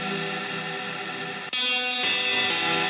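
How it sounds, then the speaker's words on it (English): An electric guitar runs through a pedal board in a live loop, giving sustained, heavily processed tones with distortion and echo. Halfway through, the sound switches abruptly to a brighter, denser layer of harmonics. "Here's another electric guitar processed through my pedal board"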